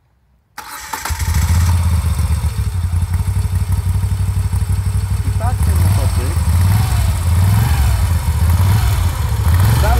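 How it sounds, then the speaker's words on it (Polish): A 2021 Moto Guzzi V7 850 Special starts up close by and settles into a loud, lumpy idle with a strong low pulsing beat, while someone speaks briefly over it. "To jest legendarna pulsacja Moto Guzzi. Zaraz wam pokażę, jak on fajnie chodzi."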